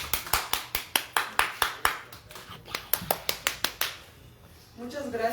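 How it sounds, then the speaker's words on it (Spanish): Sparse, distinct hand claps from a small audience at a cultural literary event, a rhythmic run of sharp individual claps that thins out and fades, followed by a voice starting to speak. "Un aplauso para ellos, por favor."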